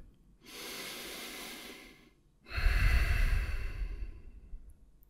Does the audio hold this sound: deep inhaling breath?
yes